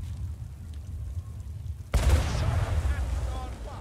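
Quiet background hum, then a single sudden heavy boom of a cannon shot in Warhammer: Vermintide 2, followed by a rumbling, crackling tail.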